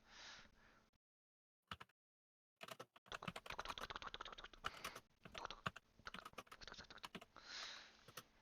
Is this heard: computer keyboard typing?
yes